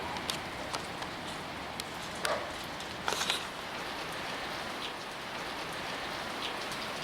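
Steady rain falls on a farm, a constant dense patter on surfaces with a few sharper drops and knocks, no voices.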